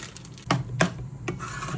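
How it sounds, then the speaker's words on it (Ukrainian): Potato pastry dough mixture with baking soda and flour being stirred in a bowl, a few soft scraping strokes of a utensil against the dish at close range. "Перемішуємо ще, ще борошно."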